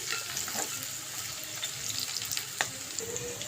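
Chicken frying in a pan with curry leaves, green chillies and coriander makes a steady, moderate sizzle with a few soft stirring scrapes and pops, no voices.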